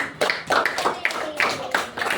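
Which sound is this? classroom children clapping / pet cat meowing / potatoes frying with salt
classroom children clapping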